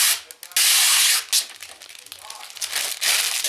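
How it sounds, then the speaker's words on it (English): Crinkly plastic film is peeled and pulled off a new PC case, a series of loud rustling, crackling bursts with brief pauses between them, close to the microphone. "the sound of plastic when things are new"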